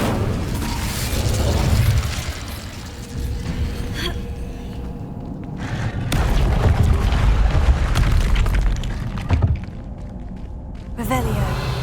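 The Incendio fire spell from the video game Hogwarts Legacy bursts out as deep booming, crackling blasts amid game ambience, with a voice talking over parts of it.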